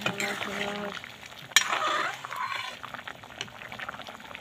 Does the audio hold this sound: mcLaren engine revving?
no